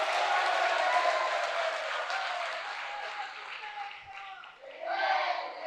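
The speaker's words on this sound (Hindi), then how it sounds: "तुम कितनी तालियां बजाओ" Audience applause at a Jain religious sermon gathering, a broad steady wash of many hands clapping that swells, thins briefly and rises again, with a murmuring crowd beneath.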